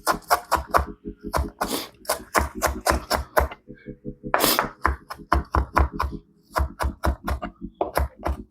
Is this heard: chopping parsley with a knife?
yes